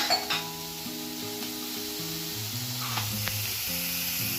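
Finely chopped onion fries in oil with mustard seeds, giving a dense steady sizzle with a few crackling pops early on, close and continuous under faint background music.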